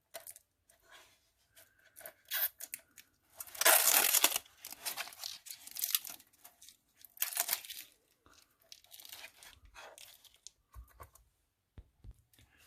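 Plastic wrap being torn and peeled off a Roku Ultra LT streaming player: quiet, close, intermittent crinkling and ripping bursts separated by short silences, heaviest in the middle.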